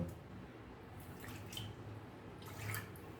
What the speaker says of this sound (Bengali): আর একটু জল দেব